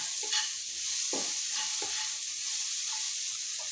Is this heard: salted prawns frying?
yes